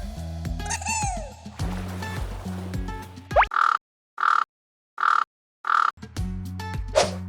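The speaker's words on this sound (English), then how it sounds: "The answer is raven." A raven gives a series of four evenly spaced, harsh croaking calls, loud and close against silence, preceded and followed by other animal sounds.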